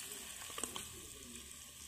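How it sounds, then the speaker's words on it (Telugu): A hot curry-leaf tempering hits cucumber pieces for pachadi and sizzles faintly in a brief, quiet crackle with a couple of small pops. "తాలింపు వేసేద్దాం"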